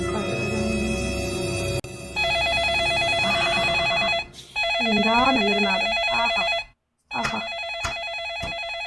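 A landline telephone bell rings at night in a house, sounding in repeated bursts of steady electronic trilling, with people talking loudly over and between the rings.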